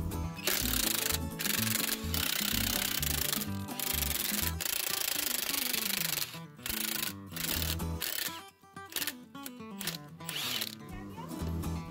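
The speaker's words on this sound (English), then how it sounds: "thank God for these cordless impacts." Cordless impact wrenches rattle off the brake-drum nuts on a 1955 International Harvester truck, loud bursts of hammering with short pauses between them, close by and without talk.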